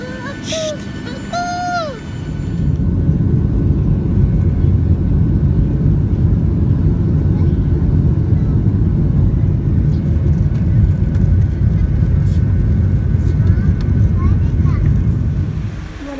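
A rented car drives along, its low road and engine rumble with wind noise rising after a short quiet start and staying loud and steady, with a few brief voice-like tones at the beginning.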